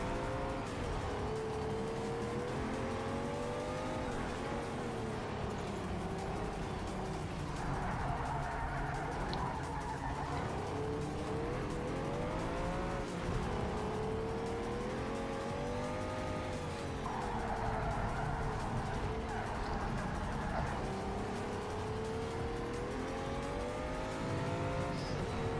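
A race car in the video game Project Cars 3, played in VR, drones loudly and continuously with an engine whine that rises and falls through gear changes, while tires squeal repeatedly through drifting corners.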